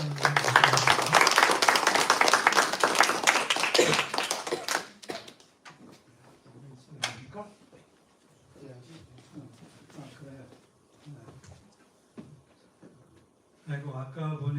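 A church audience claps in welcome for an elder, a loud burst of applause lasting a few seconds before it fades and speech takes over, with a brief renewed patter of clapping near the end.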